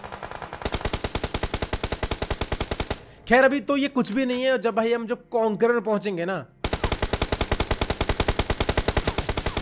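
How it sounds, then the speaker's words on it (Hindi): Rapid automatic gunfire in the battle royale game BGMI, dense repeated bursts before and after a stretch where someone speaks over quieter play. "तुम्हें सिर्फ चारों तरफ गोलियों की आवाज सुनाई देगी"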